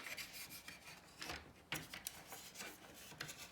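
Close, faint scraping and rubbing as the front panel of a Corsair 465X PC case is worked loose and lifted off, with a few sharper clicks among the plastic shuffling.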